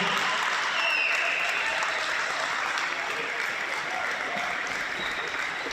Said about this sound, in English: Give them a round of applause, Rats family, Basketball ACT family.